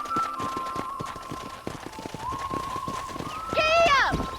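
Horse galloping in the video game Red Dead Redemption, rapid hoofbeats under a sustained musical tone, ending with a loud burst of rising, wavering sound at the close.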